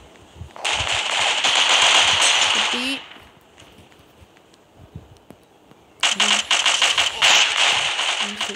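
Two long bursts of rapid automatic gunfire in the video game Danger Close, a rattling stream of shots separated by a quieter gap where a voice talks.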